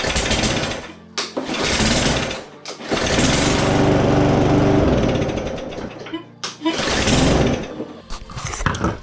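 A lawn mower engine runs after its carburetor has been cleaned, roaring loud and close in several bursts with brief drops and cutouts between revs.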